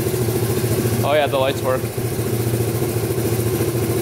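A Yamaha Breeze ATV engine idles steadily and loudly close up, with an even low pulsing throb throughout while someone speaks briefly over it.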